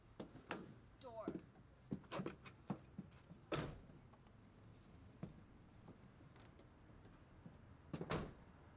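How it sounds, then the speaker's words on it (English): A door opens and closes, sharp knocks and clunks scattered across the stretch along with a faint whir and rattles, with speech heard in the background. "Door."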